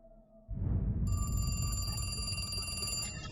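A telephone rings in the horror video game The Cat Lady, one loud sustained electronic bell trill that begins after a short low rumble and carries on for a few seconds.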